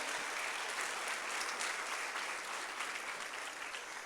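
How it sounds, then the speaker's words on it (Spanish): A congregation at a church service bursts into continuous clapping, a thick, even roar of hands lasting a few seconds at moderate loudness. "Denle una ofrenda de palmas a ese Dios sobrenatural"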